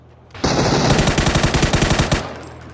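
A loud burst of rapid automatic gunfire in PUBG, steady fast rhythm for about two seconds, close and alone.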